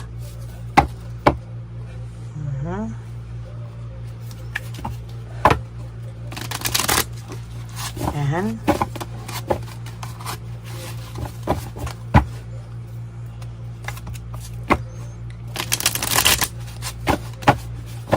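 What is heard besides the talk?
shuffling playing cards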